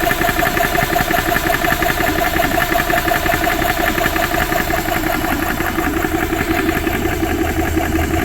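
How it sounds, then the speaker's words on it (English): An Air Venturi Rovair air compressor runs steadily, filling to high pressure with a smooth, even mechanical drone and fast rhythmic pulsing, close and loud throughout. "That is way smoother than my old air compressor."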